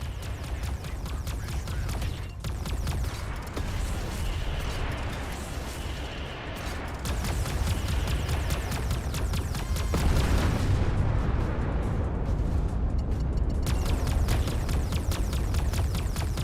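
Space combat in Everspace 2 roars with a dense, continuous wash of weapons fire and explosions, loud and close, rumbling steadily throughout with crackling bursts layered on top.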